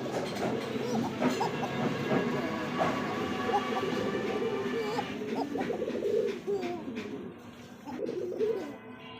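A pair of Marshal Tiger pigeons coo loudly and continuously close by, overlapping calls filling the air with a low, rolling rumble that barely pauses.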